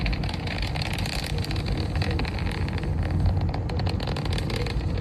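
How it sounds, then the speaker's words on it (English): SpaceX Falcon 9 rocket launching Starlink satellites from Kennedy Space Center, heard as a steady, dense, broadband roar with wind buffeting, continuous and loud throughout. "we're starting to hear the rumble now"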